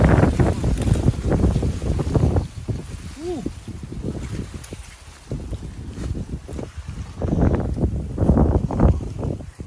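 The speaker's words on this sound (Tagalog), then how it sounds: "Hangin." Gusty wind rumbles across the microphone in loud bursts, easing and returning, in an outdoor chayote garden, while a person speaks briefly partway through.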